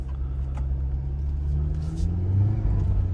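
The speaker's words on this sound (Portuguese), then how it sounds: "Tô no 4x2 e o carro tá subindo." A Jeep Wrangler Rubicon in 4x2 on mixed-use tyres climbs an off-road slope, its engine a steady, close, low rumble that swells slightly as it labours uphill.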